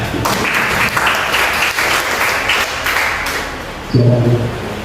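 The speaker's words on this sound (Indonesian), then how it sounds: "Berikan tepuk tangan." Applause from a school audience of students fills the room as steady, dense clapping that runs throughout, with a brief voice or tone entering near the end.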